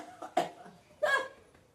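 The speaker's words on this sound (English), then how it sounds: "Now I've coughed on camera" A woman coughs twice in quick succession, short breathy bursts close to the microphone with a quiet pause between them.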